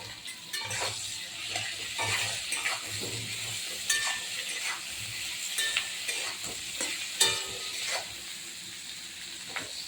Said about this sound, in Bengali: আদা দিয়ে একটু নেড়ে আদাটা একটু আলুর সঙ্গে সয়াবিনের সঙ্গে মিশে